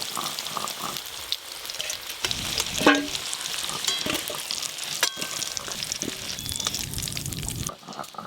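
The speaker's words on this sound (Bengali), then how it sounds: "নতুন আলু ভাজা হয়ে গেছে" New potatoes fry in a pan with a steady, close sizzle and crackle, joined by scraping and stirring sounds and one sharper clatter; no one speaks.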